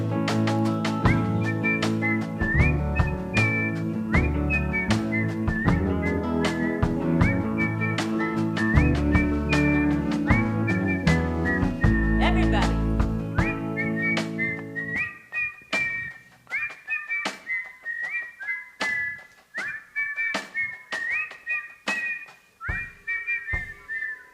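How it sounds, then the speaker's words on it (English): A live concert crowd at the Blue Ridge whistles along over an old-time string band's music, then keeps on whistling alone in a ragged chorus of overlapping tones after the instruments stop. "that's a whistling crowd right there"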